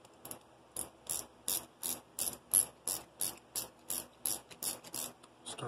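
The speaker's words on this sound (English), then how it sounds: "grab your ratchet" A hand ratchet tightens an air control valve fitting on a modified Harbor Freight vapor blaster cabinet, clicking in about a dozen steady, evenly spaced bursts, close and fairly quiet with no talk over it.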